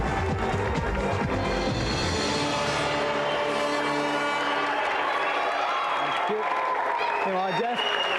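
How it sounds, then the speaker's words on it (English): Applause and cheering from a TV game show studio audience, a loud dense wash of clapping and shouts blended with music, fading toward the end as a voice speaks. "a round of applause for our gallant loser, Conley, and tonight's winner, Jeff"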